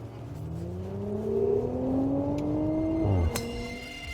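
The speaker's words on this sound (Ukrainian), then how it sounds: "запустити свій автомобіль і зробити ось так" A 2022 Audi S4 engine revs up close, its pitch climbing steadily for about three seconds before dropping back to a steady idle, with a sharp click near the end.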